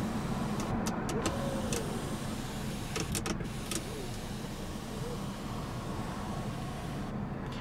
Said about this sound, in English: I love how you can open the sunroof without opening the shade.